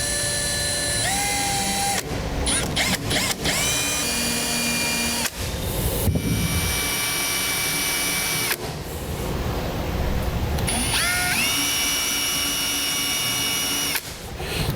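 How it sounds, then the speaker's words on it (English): A power drill boring small pilot holes into the bed of a 2008 Ford F-250 truck, loud whining bursts that rise in pitch as the motor spins up, separated by short pauses between holes, close to the microphone. "So we'll go ahead and drill 2 small pilot holes on each side."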